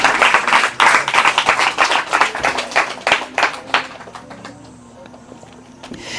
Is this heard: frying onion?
no